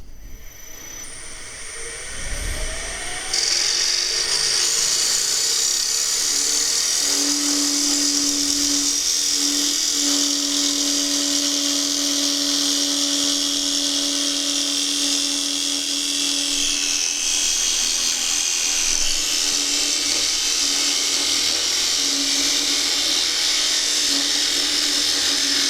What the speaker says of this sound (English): So all I'm going to do now is just part this off the lathe